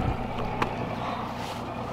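A big engine on a Phoenix boat runs on Lake of the Pines in Texas, a steady low drone mixed with wind and water noise, close and continuous with no talk.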